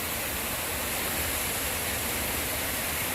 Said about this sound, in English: There's so many waterfalls here.